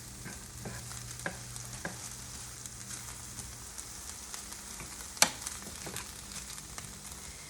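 Peppers and vegan enchilada filling cook in a pan with a steady, soft sizzling hiss, broken by occasional light taps and one sharp utensil clack near the end.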